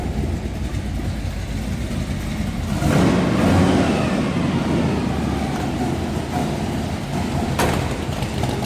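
A 1964 Chevrolet Impala SS engine rumbles steadily, swelling louder for a few seconds before settling back into a deep, continuous idle.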